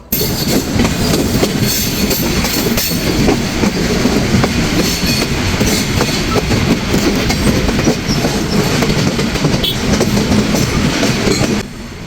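The Chilahati Express train rumbles steadily along the rails arriving at Parbatipur railway junction, with rhythmic clacking of wheels, loud and close throughout, easing slightly at the very end.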